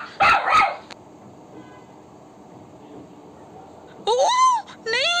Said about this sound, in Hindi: ओह नहीं, उस कुत्ते को लग रहा है कि मैं बिल्ली हूँ, चुलबुल चिल्लाई।